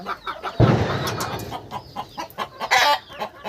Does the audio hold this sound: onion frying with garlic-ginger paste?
no